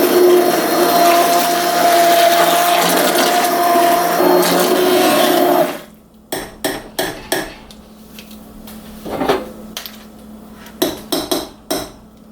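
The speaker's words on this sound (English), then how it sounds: "So I like doing it with one of these stick blenders, the immersion blenders." An immersion stick blender whirs steadily at high speed as it purees pumpkin soup, then cuts off. Several short, loud pulses follow, with clinks of the blender against the pot.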